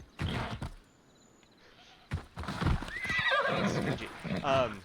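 A horse in the Assassin's Creed Discovery Tour game, set in ancient Sparta and Messenia, clip-clops with hoofbeats and gives a loud whinny, while someone talks over parts of it.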